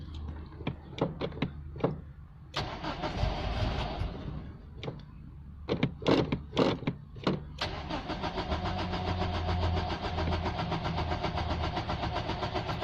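A Nissan Bluebird's starter motor cranks in several short bursts, then longer, with pauses between tries before the engine catches and settles into a steady idle, all close and clear.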